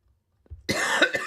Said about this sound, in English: Sorry for the coughing, trying to get away from the mic.